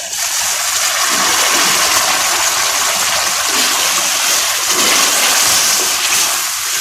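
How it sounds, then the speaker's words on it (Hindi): Water poured into a pan of tinda cooking in ghee makes a loud, continuous hissing sizzle that fills the whole stretch without pause. "अब हम इनमें थोड़ा सा पानी ऐड करेंगे।"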